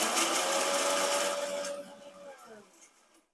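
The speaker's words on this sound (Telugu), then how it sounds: "సో ఫస్ట్ అయితే మనం మిక్సీ పట్టేద్దాం వీటిల్ని." A mixer grinder whirs loudly as it grinds cloves into a coarse powder, the motor running steadily and then winding down to a stop.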